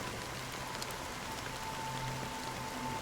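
Steady rain pattering on surfaces in the Honkai Star Rail video game, a soft, even hiss of falling drops running throughout with no voices.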